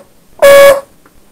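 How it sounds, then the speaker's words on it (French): A motorcycle horn wired into a newly built electrical harness gives one loud, steady buzzing blast of about half a second while being tested, followed by quiet. "Mon klaxon."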